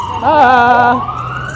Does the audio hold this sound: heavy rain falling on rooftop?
no